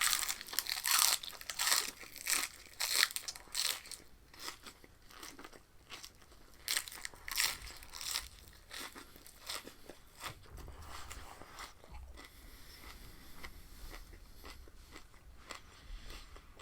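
Full raw vegetables such as spinach and cucumber eaten up close, loud repeated crunching bites and crisp chewing in quick bursts, easing to softer chewing later, no talking.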